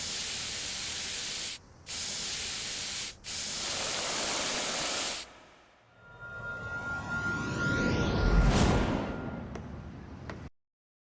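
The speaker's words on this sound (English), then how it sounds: "is using spray paint better than just having a bucket of paint?" A spray paint can hisses in three bursts separated by short gaps, then a longer fading spray blends into a rising whoosh before cutting to silence.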